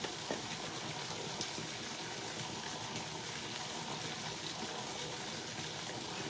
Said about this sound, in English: No, I like you guys seeing the waterfall better.